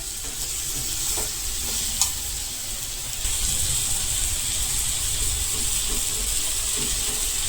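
Kantola (spiny gourd) curry stirred in a pan, a steady close frying sizzle and hiss with soft scraping of the spoon, one sharp clink near the two-second mark and the sizzle swelling slightly louder from about three seconds on.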